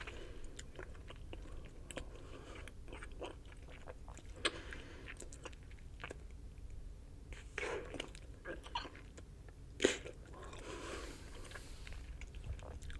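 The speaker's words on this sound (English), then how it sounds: "I want to blow it to break it down instead of chewing it." Bubble gum being chewed close to the ear in a quiet room, with soft wet smacks and small squishy clicks scattered irregularly, plus one or two sharper pops.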